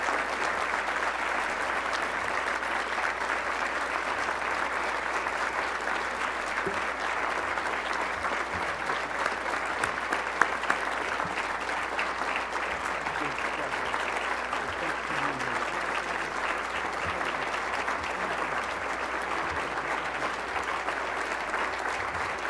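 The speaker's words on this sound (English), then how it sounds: "a round of applause." Sustained audience applause at an MLK diversity awards ceremony, a steady, dense wash of clapping that holds at an even level throughout with no pauses.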